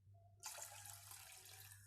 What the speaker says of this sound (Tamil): இப்போ அதில் நான் 4 கப் தண்ணியை சேர்த்துக்கிறேன்.